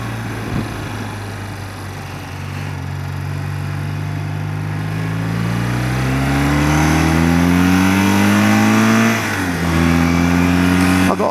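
A Porsche car accelerating close behind an old motorbike on a sunny winter road, its engine droning and rising steadily in pitch and loudness, shifting briefly before pulling harder, under constant wind noise.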